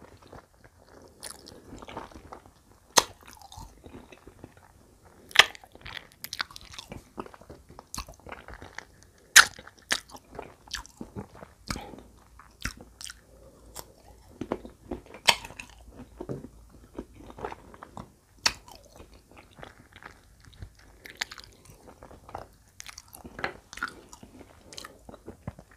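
Close, crisp crunching and biting on tamarind, sour-sweet and eaten with chili salt, repeats irregularly for a long stretch, with sharp bites between softer chewing and no talk.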